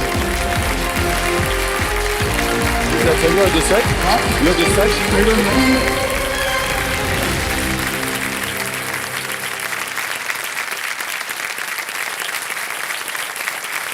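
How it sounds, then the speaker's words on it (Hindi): A studio audience at a television quiz show gives loud, dense applause that holds steady for several seconds, then thins out and fades while music plays underneath. "आइए जोरदार तालियों के साथ एक बार फिर से स्वागत।"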